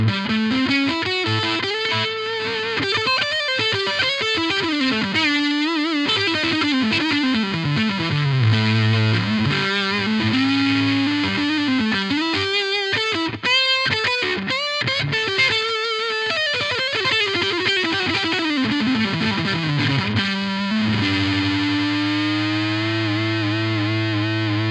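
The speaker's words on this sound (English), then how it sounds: "now I've kicked on an octave fuzz effect." Electric guitar played through an amp with an octave fuzz pedal engaged, giving a thick, distorted tone with bent lead lines and sustained notes, loud and continuous for the whole stretch with no talking.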